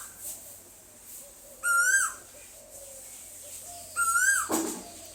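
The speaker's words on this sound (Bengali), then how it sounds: "দেখো কোকিল ডাকছে" An Asian koel calls twice in loud, rising repeated notes, separated by a quiet pause, over faint background ambience.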